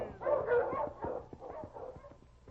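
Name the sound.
husky sled dogs barking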